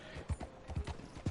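Horse hooves clop on the ground in Red Dead Redemption 2, several quiet, evenly spaced thuds in a walking rhythm over a soft background, brief and faint.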